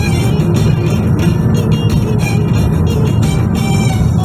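An intercity bus on the Bursa route passes close by on a Turkish road, giving a loud, steady engine and tyre roar that fills the whole stretch.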